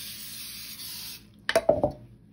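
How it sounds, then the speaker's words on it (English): Cooking spray hisses from a can around a bundt pan for a pound cake, a steady spray that ends, followed by a few short clinks and taps. "I am going to spray around and around"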